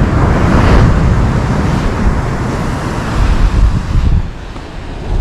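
Ocean surf washing up on a beach in Cabo, a loud rumbling wash with swelling surges and wind buffeting the microphone, no voices.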